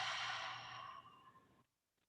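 A long, audible open-mouth exhale during yoga breathing, close and soft, tapering off into silence after about a second and a half.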